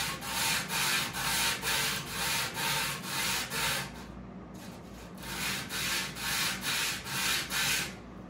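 A 3-blade broadhead is reprofiled on a sharpener in steady back-and-forth strokes, a rhythmic rasping scrape repeating about twice a second with one short pause, close and fairly quiet, no voices.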